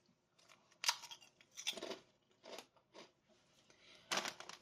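Shrimp ranch flavored potato chips crunched in a few sharp, close bites spread across a quiet moment, each bite a crisp snap followed by brief chewing.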